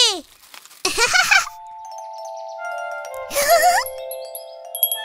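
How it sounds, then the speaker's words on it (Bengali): Wind chime ringing in a children's cartoon: bright, sustained metallic tones that ring out and overlap, set between short bursts of animated character voices. "যদি হাওয়া দেয় তাহলে হাওয়া ঘন্টি বাজবে"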